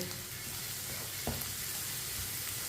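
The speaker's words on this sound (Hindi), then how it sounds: "अब अंडों को भी 2 मिनट के लिए पका लेंगे" Eggs cook in a pan with vegetables, a steady close sizzle with a brief clink of utensils partway through, no talking.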